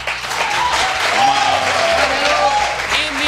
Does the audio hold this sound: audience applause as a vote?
yes